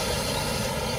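Small model locomotive on a garden railway running steadily close by, a continuous buzzing mechanical drone with no breaks or talk over it.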